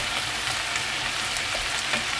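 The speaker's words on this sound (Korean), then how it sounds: "양념이 끓는 상태에서 이렇게 끓어주세요" Seasoning sauce with braised tofu simmers in a pan on medium heat, giving off a continuous close, hissing bubble and sizzle without pause.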